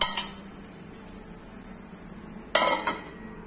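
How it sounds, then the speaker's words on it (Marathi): A metal lid clatters onto a pan of stuffed okra (bharli bhendi), giving two short clinks about two and a half seconds apart. A faint sizzle runs underneath. "आता ही भेंडी आपली चांगली हलवून झालेली आहे, ह्याच्यावरती आपण झाकण ठेवूया"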